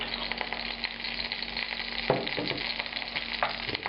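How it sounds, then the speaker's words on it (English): Olive oil sizzles steadily in a pan heated to about 200 degrees Celsius, a constant hiss with a couple of sharper spits and a scrape partway through. "So now I'm going to add a generous amount of olive oil here."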